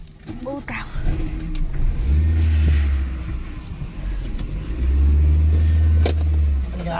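A car engine runs as people talk inside on a hot day, a low rumbling drone that swells and eases beneath the voices, rising as the vehicle pulls away.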